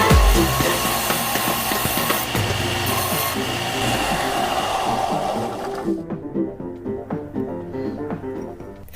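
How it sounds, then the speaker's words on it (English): Sander grinding down the rough cut edge of a regular non-silver quarter being made into a coin ring, a loud, close, steady abrasive whir that stops abruptly, leaving faint scraping and clicks. "Cut was a little rough, so I think we're going to clean it up on the sander."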